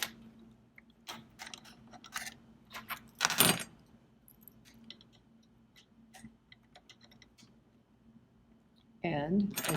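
Close clicks and small metallic clatters of a zipper foot being fitted onto a sewing machine, with scattered taps, a louder rattle, and a voice speaking near the end.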